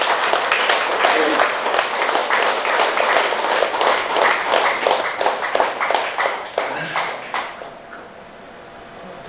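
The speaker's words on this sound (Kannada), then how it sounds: "ಆ ಮಹಾನ್ ಚೇತನಕ್ಕೆ ಒಂದ್ಸಾರಿ ಜೋರಾಗಿ ಚಪ್ಪಾಳೆ" A crowd at a Ugadi New Year festival celebration applauds with loud, close, distinct claps. The applause carries on for around seven seconds, then fades quickly into near quiet.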